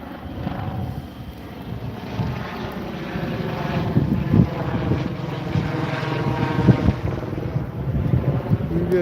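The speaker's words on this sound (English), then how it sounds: "Is that the chopper coming right now too?" A police helicopter approaches through rain and gusting wind, its rotor drone building steadily louder over the steady patter and wind buffeting near the microphone, with no voices.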